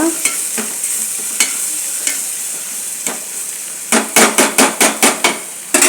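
Masala with chilli powder and coriander powder frying in a pan, a steady close sizzle punctuated by scraping stirs that grow into a quick run of sharp, rhythmic spoon knocks near the end.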